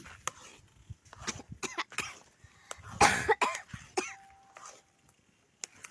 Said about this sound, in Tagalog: Inubo-ubo na naman po tayo.